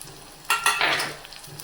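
Curry masala with curry leaves, mint and coriander frying in a pan for mutton curry: two quick stirring scrapes followed by a brief burst of sizzling, close and fairly loud, then quieter.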